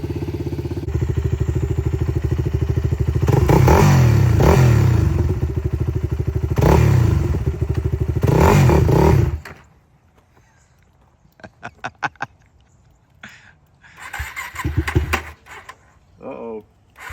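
A 2009 Yamaha WR250X supermoto engine idles loudly and steadily while warming up, with rhythmic revving pulses, then cuts off abruptly into near silence broken by clicks and clatter before a short burst of talk.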